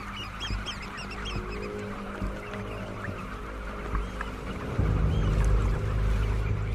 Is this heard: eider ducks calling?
yes